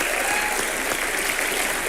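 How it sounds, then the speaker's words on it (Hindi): A brief, steady burst of audience applause, an even wash of many hands clapping at moderate volume with no pauses. "सो इस बात के लिए तालियां होनी चाहिए"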